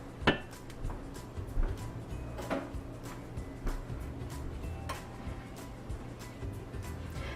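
Gummy mixture stirred in a pot, with a utensil scraping and tapping against the pot. Irregular clinks and knocks come close and fairly quiet over a soft steady background.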